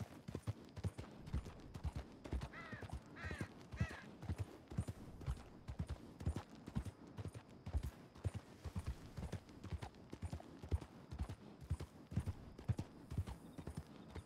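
Horse hooves in Red Dead Redemption 2 clip-clop in a quick, steady rhythm, close and continuous, with a brief whinny early on and faint ambient noise behind.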